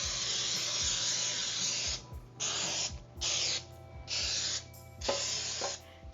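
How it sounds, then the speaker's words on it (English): Cooking spray hisses onto a 9x13 cake pan in four or five loud, close bursts, each lasting about a second, separated by short pauses and faint clinks of the can and pan. "take a 9x13 cake pan and grease it either with butter or cooking spray"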